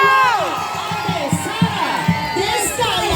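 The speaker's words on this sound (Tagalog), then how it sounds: "isang malakas na palakpakan may kasamang hiyawan" An outdoor neighborhood rally crowd in a Pasig barangay cheers and shouts in response to a call for applause, overlapping excited voices and whoops with a rhythmic pulse of music or clapping beneath, fairly loud and close.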